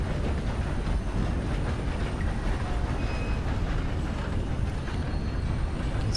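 A train rolls past in the Red Dead Redemption 2 video game, a loud continuous rumble with faint rhythmic clatter of wheels on rails, steady throughout with no voices.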